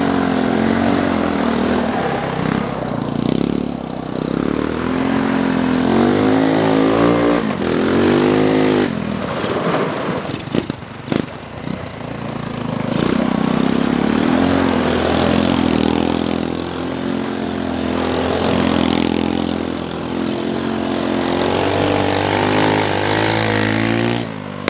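A 125cc mini quad bike engine with no clutch lever starts on the choke and keeps running, a loud, steady buzzing drone that dips briefly mid-clip before rising again, with no talking over it.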